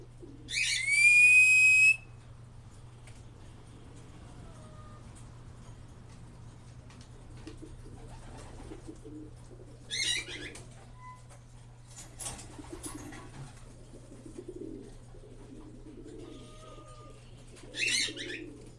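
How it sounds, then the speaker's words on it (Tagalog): A sharp bird whistle rings out near the start, followed by a few scattered, fainter chirps over a steady low hum in an otherwise quiet room. "Ibon ni Kuya J."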